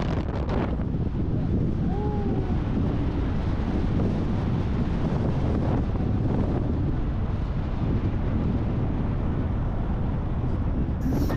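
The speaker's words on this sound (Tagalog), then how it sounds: "Sobrang sarap ng hangin dito" Steady mountain wind rushes across the microphone without letup, a constant loud roar with no clear speech.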